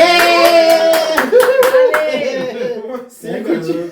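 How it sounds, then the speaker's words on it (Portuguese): An audience at a Portuguese-language education talk claps in a quick burst of sharp hand claps, with voices speaking loudly over the clapping as it trails off. "Palmas para o Auridian, gente"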